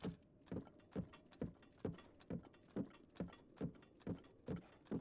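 Steady clip-clop of a horse's hooves in Zelda: Breath of the Wild, evenly spaced beats about twice per second, clear and alone without talk.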